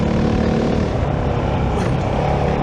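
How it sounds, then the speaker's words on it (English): A Kove 450 Rally motorcycle, restricted Euro 5 version, runs with a loud, steady engine drone and prominent intake roar, the continuous broadband rumble holding close and even throughout with no talking. "there's a lot of intake noise, even though it's the restricted version"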